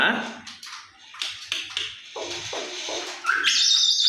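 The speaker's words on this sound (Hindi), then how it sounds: "मैना।" A myna bird calls among household voices, with squawky chirps that rise into a sustained, bright whistling cry near the end.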